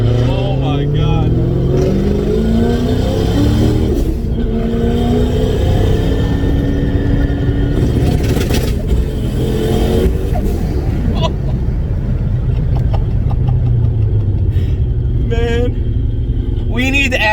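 A tuned car with an anti-lag system revs hard, its engine roaring and rising in pitch with sharp popping bursts, heard loud and close from inside the car while people talk and shout over it.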